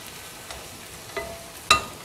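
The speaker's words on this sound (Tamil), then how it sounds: "நல்லா கிளறி விட்டுட்டு இப்போ தக்காளியும் சேர்த்துக்கலாங்க." Bitter gourd being stirred in a frying pan for chutney, just before tomatoes go in: a low, steady sizzle with three short scraping strokes of the spoon, the last one sharpest, and no talking.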